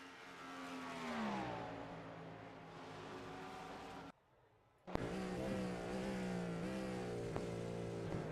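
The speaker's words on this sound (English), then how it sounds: "you can hear him on the brakes" A video game race car engine drones steadily in iRacing at the Daytona 24 Hours, its pitch dropping as it brakes and downshifts, cut off briefly before roaring back at a high, sustained whine.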